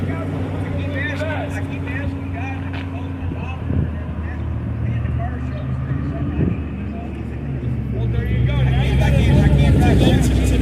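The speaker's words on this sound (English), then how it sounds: "Get to listen to two Corvettes take off." Two Corvettes pulling away at a car cruise meet in Indianapolis, a deep engine rumble building steadily and growing loudest near the end, with people's voices mixed in around it.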